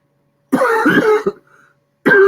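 A man coughs in the morning, giving a harsh burst of two or three throaty coughs followed by a brief quiet wheeze. Another cough starts right after, close and loud against silence.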